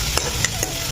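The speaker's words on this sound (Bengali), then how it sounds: "এই কাজু কিশমিশ হালকা ফ্রাই দিলাম" Cashews and raisins fry lightly in ghee for basanti pulao, a dense close sizzle punctuated by a few quick spoon stirs, no voices.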